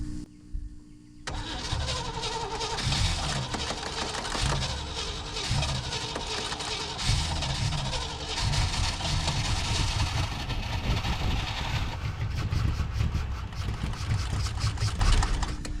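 A 1950s Chevrolet 210 engine cranks after a short silence, then catches and runs roughly with uneven, surging revs, heard close with no talking.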